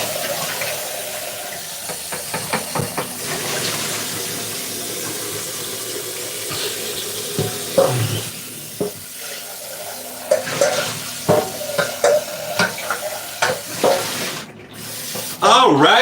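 Water runs steadily from a tap into a sink while dishes are washed, with scattered clinks and clatters of plates and utensils throughout.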